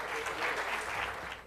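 A conference audience at CADE 2017 gives warm applause to welcome a presidential candidate, a fairly soft, continuous patter of many hands heard from a distance and tapering off at the end.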